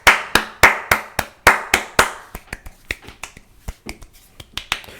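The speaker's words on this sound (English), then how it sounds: "Let's applaud the talents." Sharp hand claps, a few loud ringing ones and then a quicker run of lighter snaps or claps, each crisp and close, with no one speaking.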